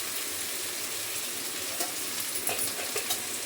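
Cauliflower vegetables frying in oil in a pan, a steady close sizzle with occasional soft pops and stirring, no voices.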